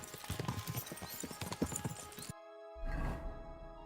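Horses galloping in the video game Kingdom Come Deliverance 2, rapid clip-clop hoofbeats thudding close under a busy game soundtrack, followed by a brief gap and a short whinny.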